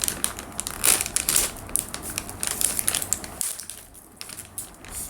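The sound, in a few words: plastic candy bag being opened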